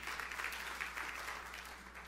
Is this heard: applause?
yes